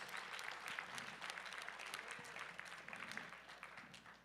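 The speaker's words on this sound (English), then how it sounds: "round of applause for Lindsay Judgitz" Sustained audience applause at a powerlifting meet awards ceremony, dense steady clapping from a crowd filling the hall for a few seconds, moderately distant and even.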